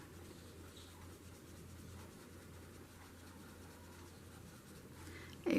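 Soft scratching of a pen moving across paper, steady and quiet, with a low hum underneath and a brief louder knock at the end.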